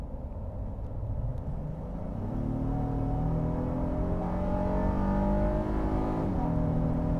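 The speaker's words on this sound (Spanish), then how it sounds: "y ahora voy a acelerarlo" A 2022 Honda Passport TrailSport accelerates hard from a standstill, its engine droning steadily and climbing in pitch through a gear change, heard from inside the cabin.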